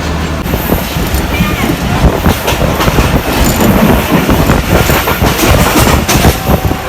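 Pakistan Railways Karakoram Express passenger train passing close and loud, with continuous rumble and rhythmic clickety-clack of wheels over rail joints and some squealing, a voice speaking underneath.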